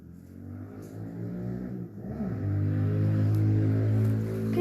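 A motorcycle passes outside while a SnowRunner truck game plays: a humming engine note that rises and grows louder midway, then holds a strong steady drone, fairly close and without talk.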